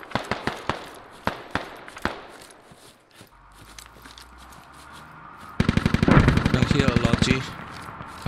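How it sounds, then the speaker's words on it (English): Gunfire in a squad shooter video game: several separate sharp shots ring out, a quieter pause follows, then a loud, sustained burst of rapid automatic fire takes over near the end. "We're giving you suppress fire, guys."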